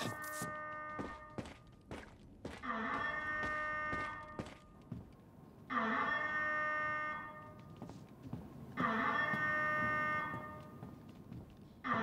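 A repeating alarm in the Star Wars Outlaws game, sounding in three sustained blaring bursts about three seconds apart, with thuds and footsteps between them at a moderate level.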